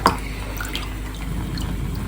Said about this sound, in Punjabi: ਇਹਦਾ ਪਾਣੀ ਆਪਾਂ ਇਸ ਤਰੀਕੇ ਨਾਲ ਹੀ ਕੱਢ ਲਾਂਗੇ